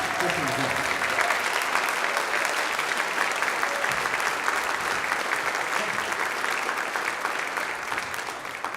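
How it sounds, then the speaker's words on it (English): A high school band concert audience gives sustained, even applause in a large hall. The clapping forms a dense, continuous roar for nearly nine seconds and eases slightly toward the end. "Can we please give them a round of applause?"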